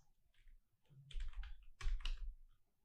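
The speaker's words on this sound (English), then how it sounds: "I'm typing this word heading style." Soft clicks come from typing on a computer keyboard while writing CSS code, a few quick bursts of keystrokes, fairly quiet and close, with no talking.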